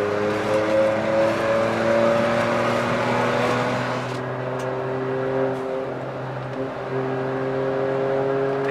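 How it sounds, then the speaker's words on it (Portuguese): A gasoline-powered Volkswagen up! TSI in original condition accelerating from first gear, its engine drone holding a steady tone with rising and shifting pitch, close and continuous, no voices. "Agora eu vou mostrar pra vocês aqui como é que é a reação saindo de primeira aqui."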